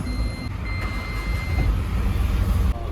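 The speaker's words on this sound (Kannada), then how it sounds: "ಈಗ ಗಾಡಿ ಸ್ಟಾರ್ಟ್ ಮಾಡೋಣ" A small diesel pickup truck's engine runs with a steady, loud, close rumble. A faint electronic tone is heard over it for part of the time.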